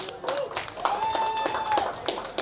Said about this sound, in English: So big clap to you guys